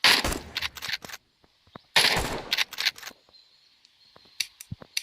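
Gunfire while hunting in a video game: two dense bursts of rapid shots about two seconds apart, each roughly a second long, followed by scattered single sharp shots and clicks against quiet gaps.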